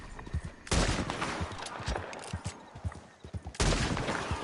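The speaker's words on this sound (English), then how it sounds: "A rifle." A rifle shot in Red Dead Redemption 2, with loud sharp reports ringing out over an outdoor hunting scene, the first cracking about a second in and another near the end.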